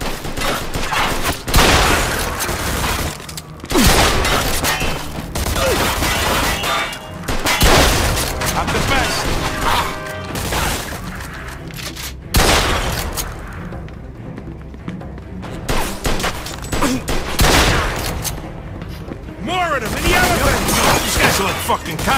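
Gunfire rings out in the Mafia 2 video game, with dense bursts of shots, booms and thuds through a long firefight, loud and close, interspersed with shouting voices.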